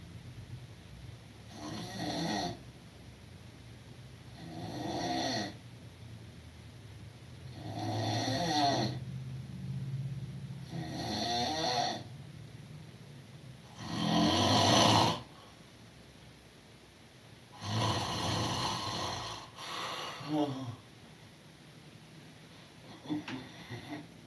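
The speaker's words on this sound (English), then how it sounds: "how can you snore that low?" A person snores in a slow, regular rhythm, about eight drawn-out rasping breaths spaced a few seconds apart, fairly close and moderately loud in an otherwise quiet room.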